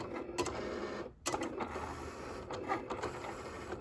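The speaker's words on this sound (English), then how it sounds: "the machine already knows where to cut. So it's going to cut little strips of X's and O's." A Cricut cutting machine slices sticker strips of X's and O's, a close mechanical whir and buzz with a brief pause before the motor resumes, steady and moderately loud without speech.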